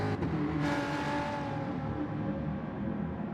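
A BMW M4 race car engine in a racing game hums and revs steadily at a constant drone, with no talk.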